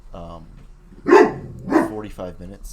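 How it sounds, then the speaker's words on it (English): Dogs bark at the mailman indoors, two loud close barks punctuating a man's speech, with a faint whine or yip between them. "Sorry about the dogs."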